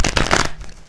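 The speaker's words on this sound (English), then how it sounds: "I always have a hard time shuffling this deck because it's kind of smaller" A small tarot deck being shuffled by hand gives a short, close, crisp riffle of cards that stops abruptly.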